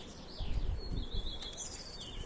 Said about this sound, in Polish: To jest bardzo dobry gołąbek.